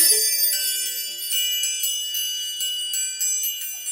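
A triangle and wind chimes ring out together in bright, high, shimmering metallic tones, struck repeatedly and left to sustain and overlap over a few seconds, with no talking.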